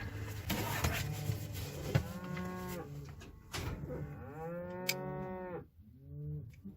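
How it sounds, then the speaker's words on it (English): Cattle moo repeatedly from a livestock chute, several long, drawn-out calls overlapping with some rattling handling noise in the background, moderately loud and close. "Looks like they've got some cows in the chute."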